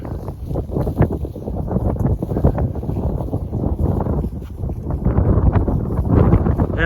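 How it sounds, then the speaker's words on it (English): Outdoor wind on a January farm roars and buffets against the microphone in a continuous, fairly loud low rumble with uneven gusts, and no one speaks. "That wind is blowing."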